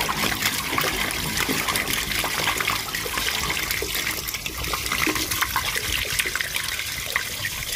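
Water rushes and trickles steadily through a freshly unblocked drain, a constant close wash of flowing liquid with no talking.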